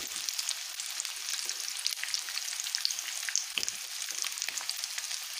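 Rice koftay fry in hot oil with a steady, close crackling sizzle and dense bright pops throughout, no voices.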